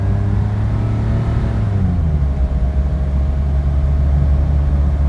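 Lotus Esprit V8 engine pulling hard at full throttle, a loud, steady low rumble sustained throughout with a slight pitch shift midway, heard from inside the car with no talking.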